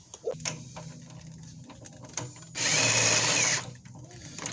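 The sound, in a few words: jack lifting a car transmission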